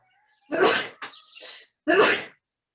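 A single sharp sneeze, close and loud, followed by a shorter breathy sound and a second forceful sneeze-like burst, then silence.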